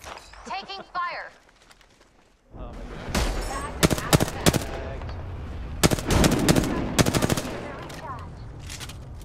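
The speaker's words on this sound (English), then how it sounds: "Taking fire!" Rapid bursts of automatic gunfire and sharp single shots from an Apex Legends battle royale match crack loudly and repeatedly, with players' voices talking over parts of the exchange.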